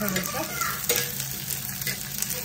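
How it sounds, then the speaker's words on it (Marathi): Onion roasting in a spoon or two of oil for village-style mutton curry, a dense close sizzle with light stirring scrapes throughout. "थोडासा आपल्याला लालसर करून घ्यायचा आहे कांदा।"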